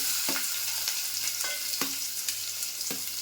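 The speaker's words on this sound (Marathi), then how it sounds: "कांदा मऊ होईपर्यंत भाजून घ्यायचा" Chopped onion sizzling in hot oil with cumin seeds in a pan for a Marathi suran (elephant foot yam) dish, a steady close fry with sharp periodic stirring clinks at about half-second intervals.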